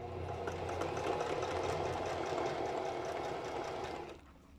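A sewing machine runs steadily, stitching a zigzag stitch on lace with a fast, even mechanical whir and hum for about four seconds before stopping abruptly.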